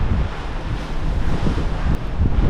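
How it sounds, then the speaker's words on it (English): Ocean waves and strong wind seen from a cruise ship, with heavy microphone buffeting over a steady rushing wash of surf, loud and continuous with no voices. "Look at the waves on this thing, it's crazy."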